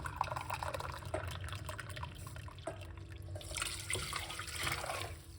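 Hot water pours steadily into a large cup, a continuous splashing stream that stays close and fairly quiet, with no voices.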